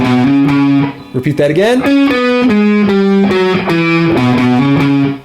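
Overdriven electric guitar chugs through a riff, with sustained distorted power chords bending and stepping in a slow, heavy rhythm. A short spoken phrase cuts in briefly near the start.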